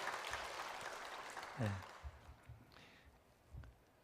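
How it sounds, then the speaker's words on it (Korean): A church congregation applauds in congratulation at a Wednesday morning service, a broad wash of clapping that starts fairly loud and then thins and fades, with a few scattered sounds near the end. "축하의 박수."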